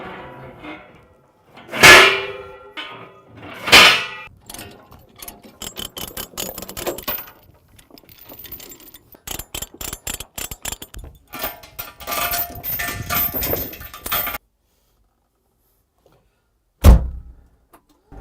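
Heavy steel binder chains and ratchet binders being pulled off a trailer after hauling a mini excavator: loud metallic clanks and rattles early on, then a long run of clinking chain links, a pause, and one final heavy clang.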